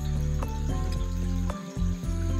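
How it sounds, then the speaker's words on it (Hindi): Waterfall on a Margalla Hills trail in Islamabad, its water pouring steadily and close by, under a layer of music with no speech. "पानी की जो एक आवाज़ होती है ना, अपने आप में ये भी एक थेरेपी होती है।"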